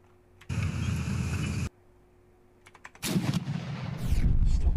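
Tank main gun firing on an anti-tank gun in the tank combat game Armoured Commander II: a sustained loud blast of gunfire noise, a quiet pause with small clicks, then a second heavy burst of firing and rumble continuing to the end.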